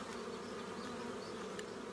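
Honey bees buzz around hive frames pulled from a hive, a dense steady drone close by with no talking.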